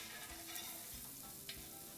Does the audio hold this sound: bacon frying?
yes